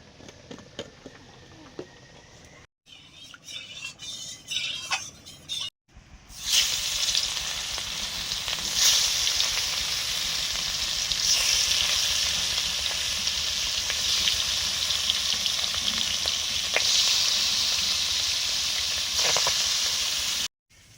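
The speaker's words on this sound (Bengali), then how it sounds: "তেল দিলাম, সর্ষের তেল, রুই মাছ ভাজবো।" Rohu fish pieces rubbed with salt, turmeric and chili powder sizzle and hiss in hot mustard oil, a loud steady frying crackle that fills most of the stretch after a few quieter preparatory clatters.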